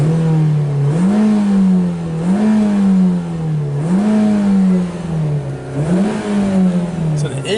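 A 2012 Nissan Versa engine with throttle and sensor faults revs up repeatedly in a loose rhythm of rises and drops, loud and close, with brief speech mixed in.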